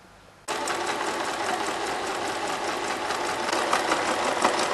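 A sewing machine starts abruptly and stitches darts on a fabric top, a fast steady mechanical whirring that runs without pause, loud and close.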